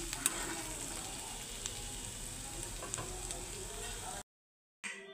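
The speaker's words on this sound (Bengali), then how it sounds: "আলুটার সঙ্গে শাকটাও আমি ভাজা ভাজা করে নেব।" Radish greens and potatoes fry together in a pan with a steady, close, dense sizzle and stirring for about four seconds. The sound cuts to silence, then resumes briefly.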